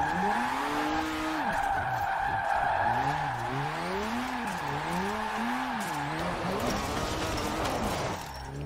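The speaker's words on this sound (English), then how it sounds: "It definitely holds a drift nicely in the lower gears." A Nissan Sentra Nismo or Mazda RX7 drifts in Forza Horizon 4, its engine note wavering up and down as the tires squeal continuously, loud and steady throughout.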